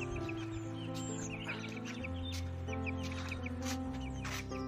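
Chickens cluck and call at a poultry farm in Uttarakhand, steady overlapping bird calls with a constant low hum underneath, no talk.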